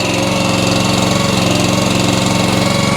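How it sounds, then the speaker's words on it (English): A backhoe's engine runs under load, loud and close with a steady, throbbing mid-range drone and a constant rhythmic knock. "You'll hear the engine."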